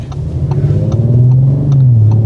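Audi RS 5 Sportback with a 2.9-litre 450-horsepower engine, heard from inside while driving: a steady, loud low engine drone that climbs gently in pitch as the car accelerates, with no talking.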